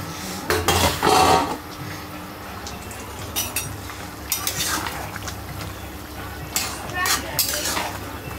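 Food is stirred in a hot pot at home, a ladle scraping and clattering against the metal in several loud bursts over a low background hum, with voices talking intermittently.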